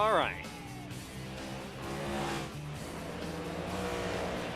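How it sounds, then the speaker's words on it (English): NASCAR stock cars roar around Richmond Raceway at night in iRacing's FedEx Cup Series, engines sweeping past one after another in a continuous loud drone beneath a commentator's voice. "Cars on the racetrack at Richmond Raceway tonight in the NASCAR iRacing FedEx Cup Series."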